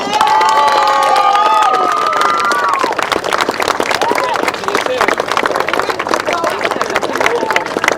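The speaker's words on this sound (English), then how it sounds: "A massive cheer, please." Crowd cheering and clapping for a sidecar racing pair finishing third overall at a 500cc sidecar series final, loud and sustained throughout, with a voice carrying over the noise early on.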